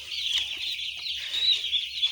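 Young broiler chickens on a poultry farm, two days into a 40-day rearing cycle, keep up a dense, continuous high-pitched chorus of peeping and clucking from a crowded flock.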